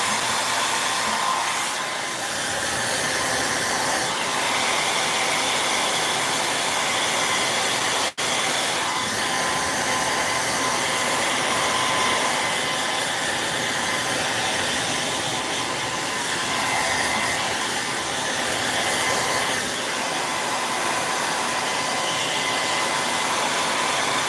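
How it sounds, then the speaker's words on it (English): Hair dryer drying glue on an upcycled vase, blowing a loud, continuous broadband whoosh close by for the whole stretch, with slight changes as it is moved around. "I'm going to use the hairdryer a little bit and get this dried"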